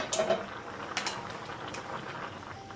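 A pot of peas and pigstail for Jamaican rice and peas with coconut milk boils steadily, a soft continuous bubbling with a few brief clinks of a pot or utensil near the start.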